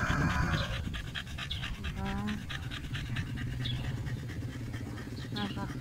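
A large, overheated dog pants rapidly and rhythmically close by on a hot day, with voices talking over the panting.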